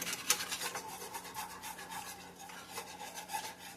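A whisk stirs gravy, making a quiet, steady rasping scrape with rhythmic strokes, close up and with no talking.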